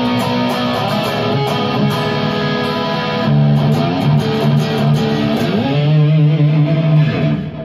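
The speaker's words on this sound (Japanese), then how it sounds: "これがマーシャルの音ですね。" Electric guitar played through a Marshall amp, sustained chords and melodic lines with a thick driven tone, loud and continuous with no talking.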